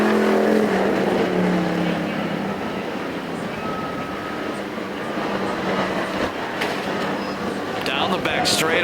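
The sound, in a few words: enduro race cars at Perris Auto Speedway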